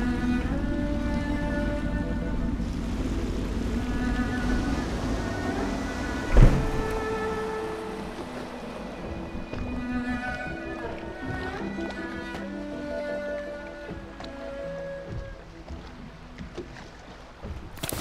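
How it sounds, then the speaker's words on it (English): A small boat moves across water in the rainy world of the video game Dishonored, with a low, sloshing engine and water wash under background music and a single thunk partway through, while characters talk. "I should concentrate on piloting this boat."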